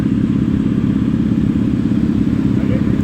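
A BMW M4 GTS or G80 M3 exhaust rumbles loudly and steadily up close, a deep continuous drone with a rough, throbbing low end and no voices over it.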